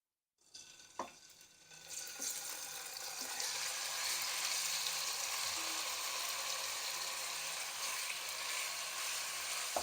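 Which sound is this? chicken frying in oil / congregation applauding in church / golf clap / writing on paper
chicken frying in oil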